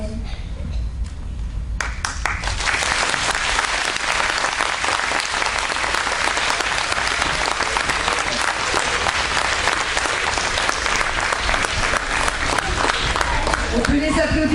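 An audience applauds after a group performance, with sparse clapping at first that swells after about two seconds into loud, sustained applause from a large crowd, voices mixed in.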